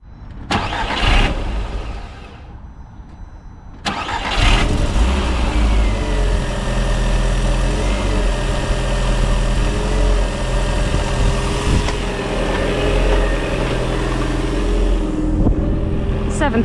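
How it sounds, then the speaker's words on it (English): Rebuilt Audi TT 180 engine cold-starting after a couple of brief cranking attempts, then catching and settling into a loud, steady idle with a slight rough edge, heard up close. "It still has that cold start weird issue, but the idle's not too bad."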